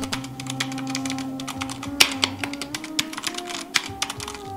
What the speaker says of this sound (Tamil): அந்த ரெட் ஸ்விட்ச் கீயோட சவுண்டு பார்த்தீங்கன்னா ஒரு செம எக்ஸ்பீரியன்ஸ் கொடுக்கும்